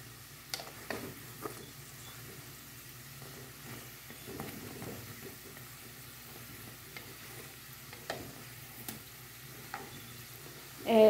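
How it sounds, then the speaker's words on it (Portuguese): A quiet, steady sizzle of biscuit dough frying in oil in a pan, with scattered pops and crackles and a few soft clinks nearby, no talking. "Agora eu tô fritando mais aqui"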